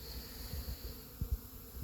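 Honey bees buzz faintly around their hives during orientation flights, a soft steady drone with a few low bumps and thuds near the microphone and no voices.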